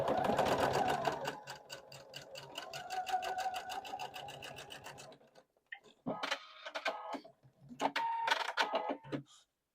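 A sewing machine stitches quilt pieces for a cottage block in a fast, steady run of needle strikes for about five seconds, then stops; a few shorter bursts of stitching and handling noises follow.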